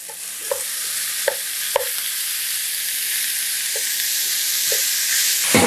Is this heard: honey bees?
no